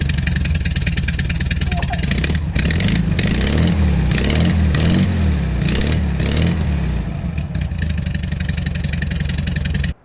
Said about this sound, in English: let's see how different it sounds with the exhaust tips off